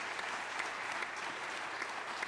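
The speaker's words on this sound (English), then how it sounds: "round of applause for our panelists?" Dense, even applause fills a conference hall as the crowd claps for a panel of speakers, a steady wash of many hands at moderate, distant-sounding level.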